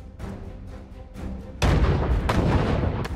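Cannon fire in a war film: heavy artillery booms and rumbling blasts roll over a dense battlefield din, growing louder and thicker partway through.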